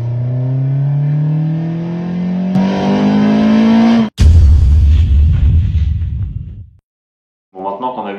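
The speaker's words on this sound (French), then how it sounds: "quand on passe d'une loi de levée à l'autre, souvent de la petite loi, donc faible régime, à la grande loi, le son du moteur change profondément" A Honda VTEC engine revs hard, its pitch climbing steadily before the tone abruptly turns harsher as the cam lift switches, then a loud, rough burst follows and dies away into silence before a brief revving returns.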